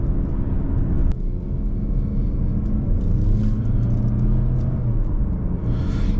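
A 2023 Mazda CX-30 2.5 S driving on a road gives a steady low rumble of engine and road noise from inside the cabin, loud and continuous, with no talking.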